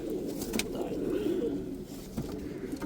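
Pigeons in a fancier's flock coo softly and continuously, a low rolling murmur with a faint background voice or two.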